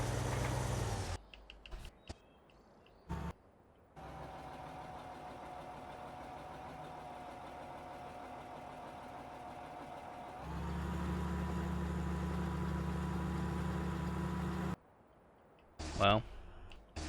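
John Deere tractor engine in the Farming Simulator 2015 video game, a steady droning hum that rises in pitch and loudness partway through, with brief gaps and a few clicks, no voices.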